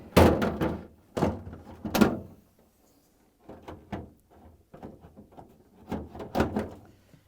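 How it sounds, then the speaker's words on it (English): A GE refrigerator's lower freezer drawer being installed, producing a series of close plastic knocks, thunks and sliding clatters in clusters separated by quiet pauses. "now I'm going to install this freezer drawer."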